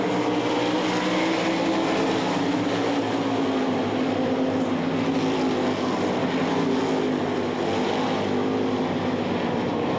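Sprint-style race cars roar continuously around a dirt oval during a 360 feature, a dense, loud engine drone holding steady throughout with no voices.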